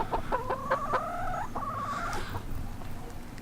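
Chickens cluck and chatter outdoors in wet, rainy weather, a few close rhythmic clucks and a drawn-out call standing over steady rain and background noise, with no one talking.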